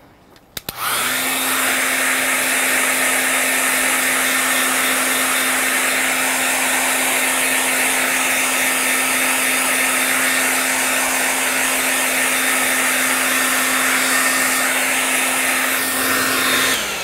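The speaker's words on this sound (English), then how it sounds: "so I'm going to keep blow drying" A hair dryer blowing on watercolor paint switches on after a brief click and roars loudly and steadily at close range, with no talk.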